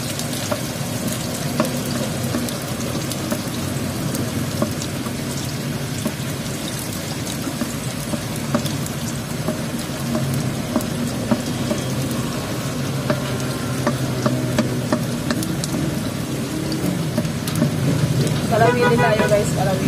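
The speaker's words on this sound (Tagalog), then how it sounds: "magigisa po tayo ng sibuyas at saka bawang guys" Onion and garlic sautéing in a hot pan, a steady close sizzle and crackle with occasional stirring clinks, running continuously under a woman's speech.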